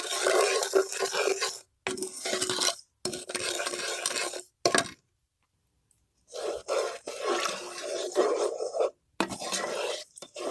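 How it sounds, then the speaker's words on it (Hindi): A spoon stirs sugar in a pan on a medium flame until it dissolves, making close scraping and clinking in bursts of a second or two broken by short silent gaps. "मुसलसल हमें चम्मच चलाते जाना है ताकि चीनी अच्छी तरह से डिसॉल्व हो जाए।"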